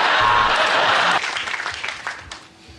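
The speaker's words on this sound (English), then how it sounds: "Nice the way the applause ended before you could sit down" Television studio audience applauding on a comedy panel show, loud clapping that tapers off quickly and fades out within a few seconds.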